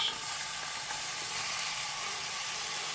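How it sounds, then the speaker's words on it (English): Two finely chopped medium onions hit hot oil for mushroom pilau rice, making a soft, even hiss that holds steady throughout without much change or any talking. "So once the oil's nice and hot, I'm adding 2 very finely chopped medium-sized onions."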